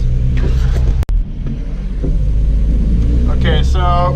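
Engine of a cheap old Volvo car drifting on a street with an e-brake entry, a steady loud rumble throughout, with a brief dropout and a rising rev near the end, as a voice talks over it.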